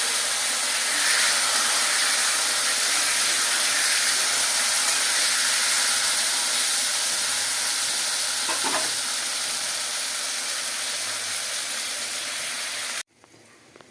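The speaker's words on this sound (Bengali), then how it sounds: "এটাকে আমি এবার কড়াতে দিয়ে দেবো তেলের মধ্যে দেখে এটাকে একটু ভেজে নেবো" Potatoes and eggplant fry in hot oil in a wok, giving a steady, loud sizzle with a soft hiss that runs unbroken for about thirteen seconds before cutting off abruptly.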